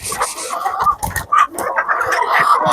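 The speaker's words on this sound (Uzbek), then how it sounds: "Mana shu yangi xo'rozmi?" A large new rooster, a hen-house breed, clucks and calls close by in short, loud bursts with brief gaps between them, with other poultry sounds faintly mixed in.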